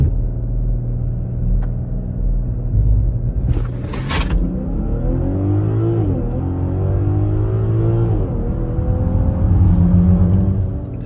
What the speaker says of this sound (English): We're gonna do a 0 to 60 pull